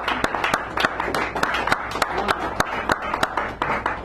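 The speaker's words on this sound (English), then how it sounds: "Give him a round of applause, please." Audience applause at a poetry hour in a San Francisco café, a steady patter of many hands clapping at close range with sharp individual claps standing out, continuing for several seconds without speech.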